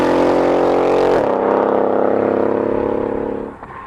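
A tuned RennTech Mercedes CLS63 AMG revs loudly nearby, its engine note holding high, then dropping in pitch and sustaining before cutting off sharply near the end.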